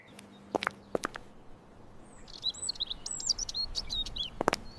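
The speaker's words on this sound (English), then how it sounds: "I hear the birds singing." Bright, chirpy bird calls twitter in a quick cluster toward the end over quiet park background, with a few sharp knocks early on.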